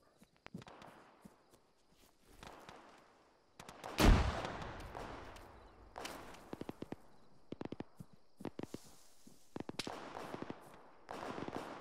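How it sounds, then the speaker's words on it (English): Frag grenade blast in the military game Arma, a single loud broadband burst that stands out amid scattered gunfire cracks and distant shots during a firefight. "Frag out."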